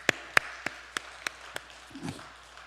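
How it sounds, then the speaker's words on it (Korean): At a Sunday afternoon service at Incheon Singwang Church, six crisp claps ring out in a steady, evenly spaced rhythm, followed by a brief low murmur. "우리 여전도에 힘내시라 박수 한번 칩시다."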